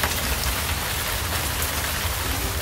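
Heavy monsoon rain pours steadily in the Himachal mountains, a dense, continuous hiss of drops drumming on nearby surfaces with no voices, close and even throughout.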